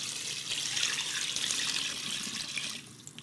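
Water pours steadily from a tap into a pot for lentil soup, a continuous splashing stream for about three seconds that tapers off near the end.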